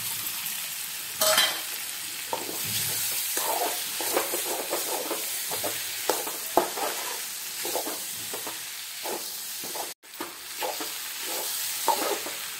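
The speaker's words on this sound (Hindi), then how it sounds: "अब ये मशरूम को डालते हैं।" Mushrooms frying in a pan and stirred repeatedly, giving a steady sizzle under frequent close scraping strokes, with one brief dropout partway through and no talking.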